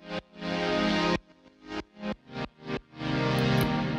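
A dense, sustained music mix pumps under external sidechain compression from the Vulf Compressor in Ableton Live, swelling back after a chopped run of five rhythmic ducked bursts, loud and close with no talking.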